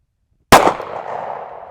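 A single sharp report from an Umarex Regent 1911 R350CR air pistol, a sudden close crack after silence with a short ringing decay.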